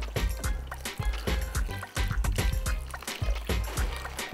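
Homemade brine is poured and splashed over a ham, giving a busy, continuous wet gurgle with repeated sloshing bursts and low thumps, close and fairly loud, with no talking.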